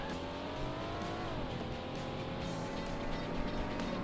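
Race cars in the PlayStation version of Need for Speed II roar steadily, the engine pitch climbing, then dropping sharply and climbing again as a gear changes, loud and continuous with no voices.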